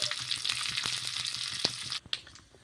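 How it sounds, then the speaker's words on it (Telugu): Curry leaves, cumin and mustard seeds sputter and fry in hot oil as a tempering for chutney, a dense steady sizzle with sharp pops, then it quickly dies down to a few faint crackles. "ఇలా పోపు అయితే పెట్టేసుకున్నాం కరివేపాకు కూడా వేసేసుకొని"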